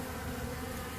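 Airborne honeybees swarm during a removal from a trailer in Auburndale, Florida, making a dense, continuous buzzing drone that stays close and steady throughout.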